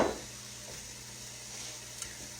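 Food sizzles steadily while being stirred in a hot pan, a soft continuous frying hiss with a brief scrape at the start and a faint clink near the end.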